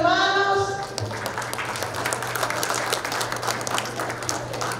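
Applause from a Catholic congregation in church, a steady wash of clapping that follows a brief sung or spoken tone at the start, with a low steady hum underneath.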